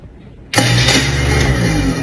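A garbage disposal suddenly switches on with a loud, steady grinding whir that continues without pause after a quiet moment.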